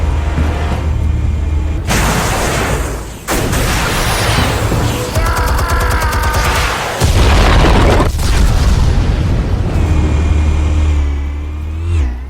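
Explosive charges detonate in Batman: The Telltale Series with loud booming blasts and heavy rumble, followed by crashing debris and roaring engine-like noise that fills the whole stretch, with no talking.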